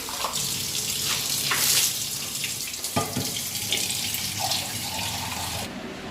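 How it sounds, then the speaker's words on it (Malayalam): Water runs steadily and fairly loudly, rinsing soap off kitchen blinds in a small flat kitchen, a continuous splashing rush that stops abruptly near the end. "ഇനി വെള്ളമൊഴിച്ച് സോപ്പ് കഴുകി കളഞ്ഞാൽ മതി"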